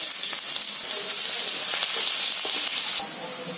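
Cumin seeds and onion fry in oil in a wok, giving a loud, steady sizzle with scattered crackles and light stirring, and no one speaking.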